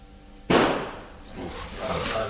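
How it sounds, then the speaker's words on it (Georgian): A forensic expert fires a gunshot in a neighbouring house, heard as one sudden sharp bang from a distance followed by a long fading reverberation, over faint room noise. "ახლა აქ ველოდებით გასროლის ხმას"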